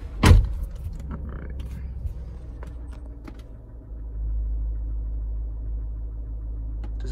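A Land Rover Range Rover engine, slightly smoking during a rebuild, idles steadily with a low, even rumble after a sharp thump near the start, growing slightly louder toward the end.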